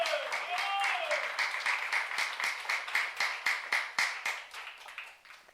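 Church youth congregation applauding during a sermon, a voice trailing off at the start as rhythmic, fairly uniform clapping takes over and continues steadily, moderately loud.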